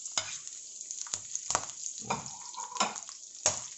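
Garlic dropped into a pan of frying pork for pinakbet, giving bursts of crackling sizzle mixed with clattering stirring strokes, close and moderately loud with no talking.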